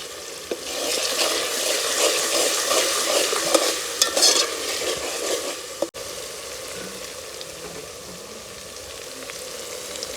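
Onions fry in a pan for Gujarati kantola shaak, a spiny gourd curry, with a steady sizzle and busy stirring scrapes for several seconds, then a quieter, even sizzle once the stirring stops.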